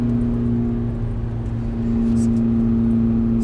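A 2017 Toyota Corolla with its muffler deleted drones steadily under acceleration, a loud, close, continuous exhaust hum that swells slightly toward the end with no talking over it.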